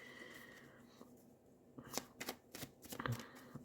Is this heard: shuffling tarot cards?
yes